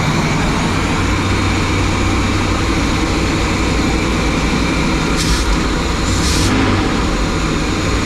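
A 1983 Chevy V8 engine in a Holiday Rambler motorhome idling, a steady loud rumble that holds even throughout with no talking.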